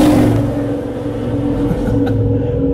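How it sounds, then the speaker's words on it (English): A loud truck speeds down a residential street at around 40 to 50, its engine a close, heavy rumble that holds steady and then starts to ease away. "A loud truck. He's going 40, 50 and just in a residential."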